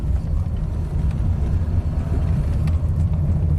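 A Lexus that will not back up revs in reverse gear without moving, its steady, loud engine rumble filling the clip close by with no voices.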